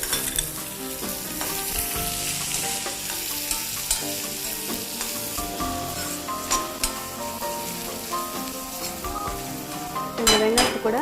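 Onions frying with browned cashew nuts in a pan, a steady soft sizzle under repeated stirring and light clinks of a utensil against the pan, with a brief sharper scrape at the end.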